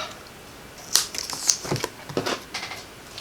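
Card stock being trimmed with a cutting tool: a few short, crisp snips and scraping sounds spaced irregularly, close and fairly quiet.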